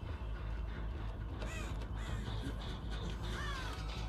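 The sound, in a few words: crow cawing in Dead by Daylight video game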